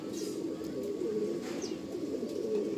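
Soft, repeated cooing of green-eyed Madrasi Andhra pigeons in a steady low murmur, with a few faint chirps above it and a constant background hum.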